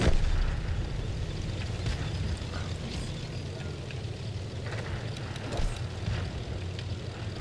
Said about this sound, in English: It's insane, this autocannon. 90 pen.